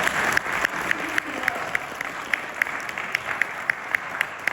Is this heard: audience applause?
yes